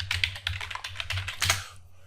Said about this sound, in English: Now, this is just me typing it in.